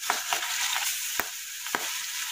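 Stinging catfish fries in a hot wok with oil, salt, chili, turmeric and a little lemon juice, giving a steady dense sizzle broken by several sharp utensil clicks as the pieces are turned; no voices.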